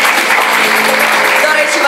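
Audience applause at a vocational school fashion show: a short burst of steady, loud clapping from a crowd, continuous and evenly dense.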